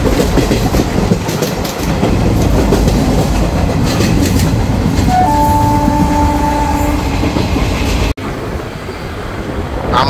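The 03161 Digha Special passenger train runs on rails out of Kolkata near Baranagar and Dakshineswar, a loud steady rumble with clickety-clack of wheels and a brief tonal horn or brake whine midway, heard from inside the carriage.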